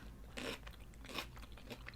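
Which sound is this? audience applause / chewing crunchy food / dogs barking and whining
chewing crunchy food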